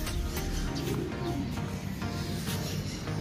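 Racing pigeons during a training flight in Villasis, Pangasinan, giving soft, low cooing calls amid faint chirps, fairly quiet and steady with little talk.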